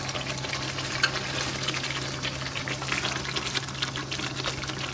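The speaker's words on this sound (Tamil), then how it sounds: "இப்போ நம்ம புளிக்குழம்புல இந்த கீரையை போட்டுட்டோம்." Gongura leaves drop into a simmering tamarind curry, giving a steady soft sizzle and bubbling under a low constant hum, with no talk.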